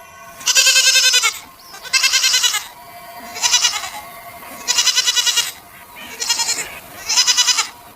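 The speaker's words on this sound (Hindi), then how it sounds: "उसकी बकरियां खुद ही घास चर रही होती हैं" Goats grazing outdoors bleat loudly and close by, six drawn-out calls in a row with short pauses between them.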